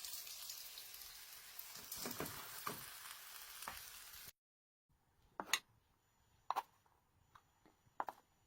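Fish frying in a pan with oil for garba sizzles steadily, then after a brief cut the crackling softens into scattered quiet pops and spits.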